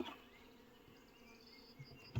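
Honey bees hum around a young queen in a faint, steady buzz close by, ending with a brief louder rustle.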